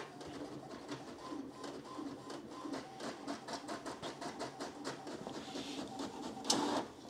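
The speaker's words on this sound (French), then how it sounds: "on va cliquer sur imprimer une page de test et on va voir si l'imprimante réagit" An HP Officejet 3833 inkjet printer prints a test page, giving a steady rhythmic mechanical whir and clicking as the print head passes, with a brief louder burst near the end, moderately close and with no speech.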